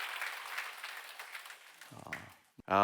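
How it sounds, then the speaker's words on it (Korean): Church congregation at a Sunday worship service applauds briefly, the clapping fading over about two seconds before a voice begins speaking. "우리 하나님께 감사의 영광의 박수를 드리기로 원합니다"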